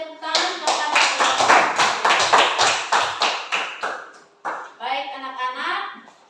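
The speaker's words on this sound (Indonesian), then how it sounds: "kita berikan tepuk tangan kepada" A class of schoolchildren claps together in a strong, evenly paced rhythm that stops abruptly, followed by voices talking near the end.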